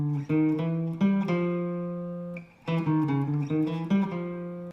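Clean guitar plays a bebop line over a dominant chord, descending first and then ascending through chromatic approach notes, in short phrases with a brief gap midway, clear and close with no talking.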